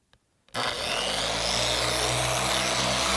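A Griot's Garage polisher switches on and runs at speed 3 on glass for a spread pass of hard-water-spot polish, giving a sudden loud start followed by a steady, close whirring drone with no talking.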